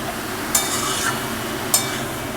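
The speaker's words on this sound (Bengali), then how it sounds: "এবারে ভালো করে উপর নিচ করে দিতে হবে নিচের লঙ্কাগুলো এবং কালো জিরে তেজপাতা সব সুন্দর করে মিশিয়ে দিতে হবে" A spoon stirs chili, nigella seeds and bay leaves in oil in a pan, two sharp scraping strokes over a soft steady sizzle, close and fairly quiet.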